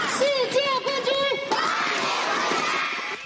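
Hometown neighbours gathered in a community to cheer badminton gold medallist Li Yang: a rhythmic shouted chant from many voices gives way to a broader, looser roar of cheering close by.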